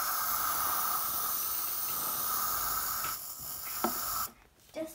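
Liquid safe-remover mixture is sprayed from a spray bottle in a steady, fairly loud hissing stream for about three seconds, followed by a couple of short taps and quieter handling.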